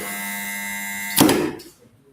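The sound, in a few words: quiz buzzer being tested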